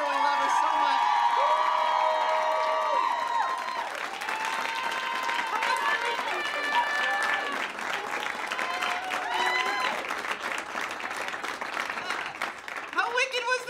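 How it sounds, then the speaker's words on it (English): A live audience at a podcast episode recording applauds and cheers for Janet, with sustained loud clapping, whoops and shouts throughout and voices calling out over the crowd. "Let's have a round of applause for Janet"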